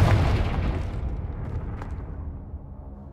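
A Confringo blasting curse explodes in Hogwarts Legacy: one loud, booming burst that rumbles and slowly fades over about three seconds.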